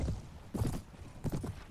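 Game horse hooves in Mount & Blade Warband, a medieval battle setting with a lame palfrey, thud in two short clusters of clip-clop steps, moderately close over low battlefield rumble.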